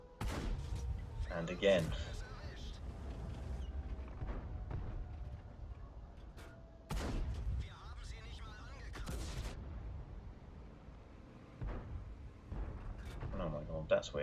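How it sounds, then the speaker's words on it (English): Tank cannon fire in World of Tanks, a round striking low on a gun mantlet, with several sharp booming shots spaced out across the clip while someone talks over the game. "Shot went low into the gun mantlet."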